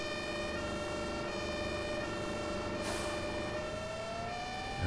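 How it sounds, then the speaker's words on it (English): Ambulance siren in the OMSI 2 bus simulator video game, a steady wailing tone with engine rumble beneath, slightly bending in pitch as it passes. "The ambulance going."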